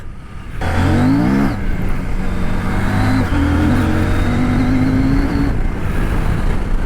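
A CF Moto 800MT motorcycle accelerating hard on off-road dirt, a loud, close engine note that rises and steps through gears, sustained with no talk over it.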